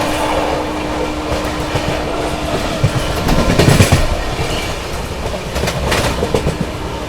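The Gatiman Express races through Dholpur junction at speed. A loud, continuous rushing roar carries rapid clickety-clack wheel beats, and a brief surge of rattling swells near the middle, with no voices.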